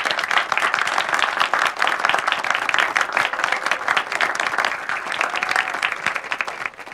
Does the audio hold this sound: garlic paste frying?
no